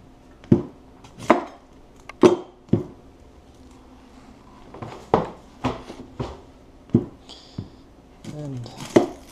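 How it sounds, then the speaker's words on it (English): A knife slicing an onion on a cutting board gives a series of sharp, close chops at irregular intervals, about a dozen strokes, with quiet gaps between them. "You don't have to use the whole onion, alright? You can use just part of it."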